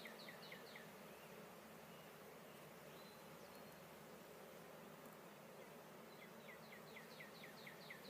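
Honey bees hum in a steady, dense buzz around an open hive during a checkerboarding inspection, close and continuous from start to finish, with faint high chirps drifting in the background and no voices.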